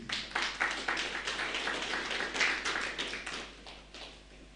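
A congregation at a prayer service claps to welcome the choir Nueva Alegría, a steady wash of moderately distant applause with irregular clap peaks that slowly tapers off.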